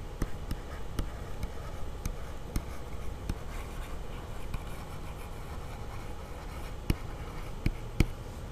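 Pen writing on paper gives a faint, continuous scratching with occasional sharp ticks as strokes start and stop, steady and close with no talking.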